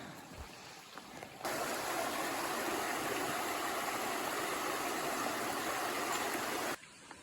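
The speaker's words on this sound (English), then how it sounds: "Nice little walk along the stream right now" Steady broadband rushing of a stream on the Appalachian Trail, loud and close, running without pause for several seconds before cutting off, with no voices.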